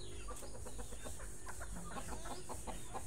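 A rooster clucks in short repeated bursts on a provincial farm, moderately near, under a constant loud hiss of background noise.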